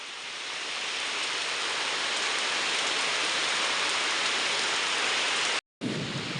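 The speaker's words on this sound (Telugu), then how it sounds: "ఇంకా వర్షం అయితే ఎక్కువైపోయింది" Heavy rain pours steadily in a dense, even hiss, broken by a brief cut near the end.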